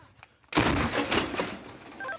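One loud, sudden boom of a 122 mm artillery gun firing, followed by a long rolling echo that fades over a second or two.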